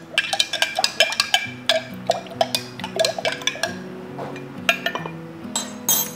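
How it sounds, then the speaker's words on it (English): Salt being stirred into water for brine with a spoon, giving rapid repeated clinks against the glass jar or bowl, close and bright, with a soft musical tone beneath and no talking. "And then all we're gonna do is just stir this until it's dissolved."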